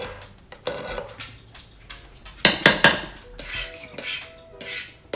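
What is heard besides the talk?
mixing buffalo chicken with a large pancake spatula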